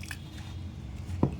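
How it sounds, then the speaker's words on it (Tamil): Pizza dough made with yogurt, butter and water is kneaded by hand, giving faint soft squishing and a single louder wet squelch near the end, with no talking. "இப்போ கொஞ்சம் கொஞ்சமாக தண்ணி ஊற்றி பிசைஞ்சிக்கலாம்."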